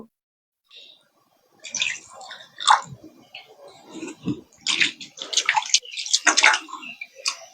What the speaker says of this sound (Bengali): চিড়েটা এখানে একটু পরিষ্কার করে ধুয়ে নেব